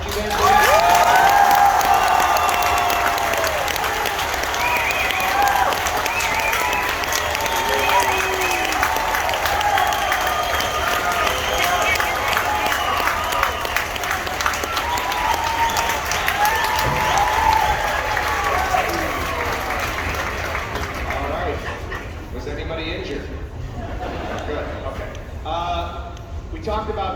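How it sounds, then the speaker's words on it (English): Sustained crowd applause with cheering for a university marching band at a UW Platteville Marching Pioneers Last Blast concert, loud and dense throughout, thinning toward the end into scattered claps and voices. "can we hear another round of applause for the marching band, please?"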